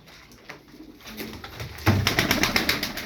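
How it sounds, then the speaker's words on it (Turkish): Tumbler pigeons coo in soft, repeated low calls, growing louder and more frequent toward the end, with faint rustling around them. "Güzel ya kuşlarımız güzel."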